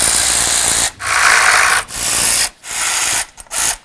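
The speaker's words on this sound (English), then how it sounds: "Use your 8mm and start removing these bolts." An 8mm socket ratchets close up on the valve cover bolts of a 1998-2012 Ford Crown Victoria, in loud rasping bursts broken by short pauses, without talk.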